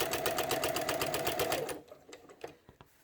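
A sewing machine with a walking foot quilting fabric, running in a rapid steady stitching rhythm close by for about two seconds, then stopping, followed by faint clicks and handling.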